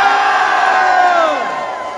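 A crowd at a UTSA event with cheerleaders and a marching band screams and cheers loudly in one sustained roar that slowly fades over two seconds.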